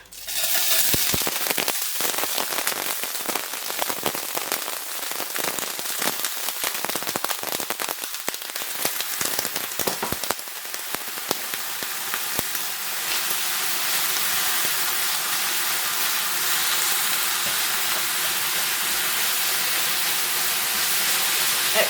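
Pre-diced onion hitting a very hot pan for American chilli, erupting into loud crackling, popping sizzle that settles into a steady, dense fry over the rest of the clip.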